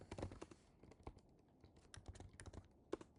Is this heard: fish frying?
no